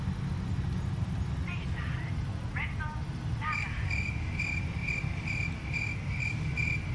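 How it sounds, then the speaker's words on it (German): Crickets chirp in the video game Bus Simulator, a steady series of rhythmic high pulses over a loud, constant low engine rumble, with a few brief sounds just before. "Das Grillenzirpen kommt Stunden zu spät."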